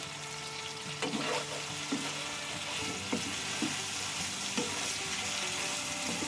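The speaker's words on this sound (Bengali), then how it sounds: "এখন ভাজিটাকে আমি ভালো করে নেড়ে দিচ্ছি।" Green tomato fry sizzling softly in a pan while being stirred, with a spatula tapping and scraping now and then over a steady low hiss, close but fairly quiet.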